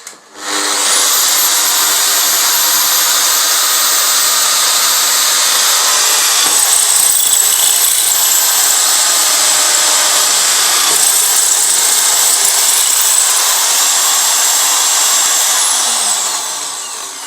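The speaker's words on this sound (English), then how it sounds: "with the smaller drill, we have to drill all the way through on the both sides" A steady, loud high-pitched whine of a power drill boring through aluminum, running continuously for about fifteen seconds before winding down.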